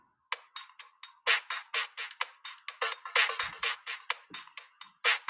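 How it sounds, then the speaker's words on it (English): A pitched-up top loop is chopped by a gate and trailed by echo in Ableton. It plays as rapid, evenly spaced bright bursts in a choppy, stuttering rhythm, alone and fairly quiet. "a top loop, but I've added the gate to it."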